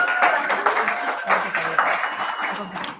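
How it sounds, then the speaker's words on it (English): Audience applause at a talk welcoming someone speaker to the stage, a steady wash of clapping across the whole stretch with some voices mixed in. "Give her a big round of applause"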